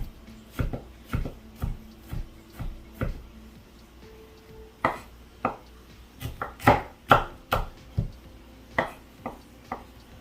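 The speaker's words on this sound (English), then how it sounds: "So the concept is you go with your knife heel, just move it back and forth just like this." A knife chops rhythmically on a cutting board for oxtail preparation, about fifteen crisp, evenly spaced thuds, some sharper and louder in the second half, with no talking.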